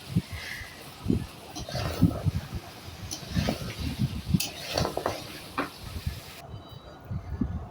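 Beef trotters being sautéed in spiced oil in a pot for nihari, with repeated scraping and stirring strokes over a low sizzle, fairly close, and a voice briefly audible.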